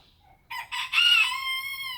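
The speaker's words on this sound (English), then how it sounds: "The roosters crow all goddamn day." A rooster on a homestead crows once, close and loud, a rising cock-a-doodle-doo that holds a long strained final note, alone against a quiet background.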